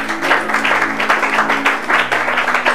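A church congregation clapping together during a sermon, rhythmic, crowded applause that pulses steadily throughout, with a low hum underneath.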